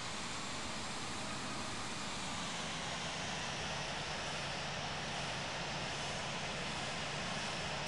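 An Airbus A330-200F in Etihad Cargo livery taking off in the Infinite Flight game, a steady, broad engine roar that stays even and loud from start to finish.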